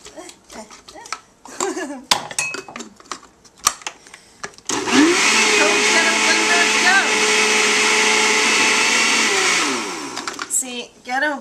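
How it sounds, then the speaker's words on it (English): A blender whirs loudly and steadily for several seconds blending a green berry mint smoothie, with scattered clinks and short bits of talk before it starts and after it stops. "we're going to go ahead and just do a little blend"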